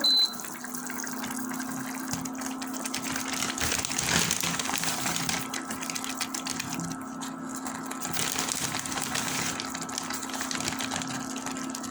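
Water rolling at a boil in a pot for vegetable paratha dough, a steady continuous bubbling hiss with a low hum, close and even throughout, with no talking.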